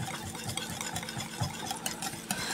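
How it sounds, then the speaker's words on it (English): A whisk beats fish taco batter in a bowl until smooth: quick, soft, rhythmic strokes with faint clinks against the sides, quiet and close. "just whisk this until it's smooth"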